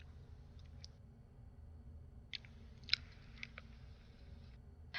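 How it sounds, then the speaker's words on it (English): Faint crunchy chewing and a few clicky bites of a skull being eaten in a video game, soft and intermittent over a low background hum. "I'm eating a skull right now."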